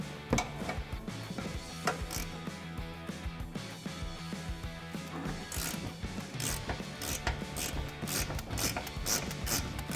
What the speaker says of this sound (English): I'm going to take my 1/2" drive on with my 18mm socket and remove these bolts.